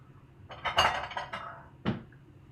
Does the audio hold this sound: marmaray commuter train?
no